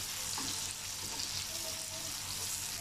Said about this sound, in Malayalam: തക്കാളി ഇട്ടതിന് ശേഷം ഒന്ന് ഇളക്കിയിട്ട് അടച്ചു വെച്ച് നമുക്ക് അതൊന്ന് വേവിച്ചെടുക്കാം.